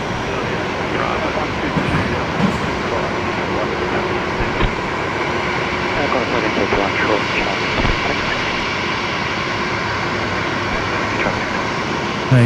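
A Qantas airliner on short final landing at Brisbane Airport: a loud, continuous jet engine roar with a steady broadband rumble, sustained throughout, heard from a nearby plane-spotting position.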